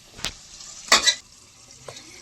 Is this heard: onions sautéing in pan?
yes